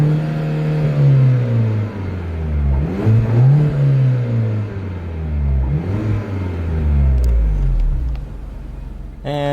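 A stock-exhaust Mini Cooper R56 in sport mode heard from inside the car, the engine rising and falling through several loud revving pulls with a droning tone and a faint voice near the end.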